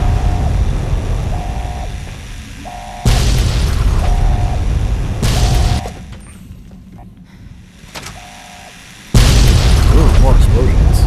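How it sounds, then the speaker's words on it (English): Explosions go off in Fallout: New Vegas, several heavy booming blasts in separate loud bursts with quieter gaps of rumble and short repeating beeps between them. "Ooh, more explosions."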